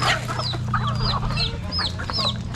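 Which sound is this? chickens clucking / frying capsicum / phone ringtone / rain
chickens clucking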